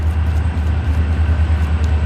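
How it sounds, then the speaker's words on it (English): A passing train rumbles with a steady low drone and faint higher clatter, continuous and fairly loud throughout with no talk over it. "Sorry about that train."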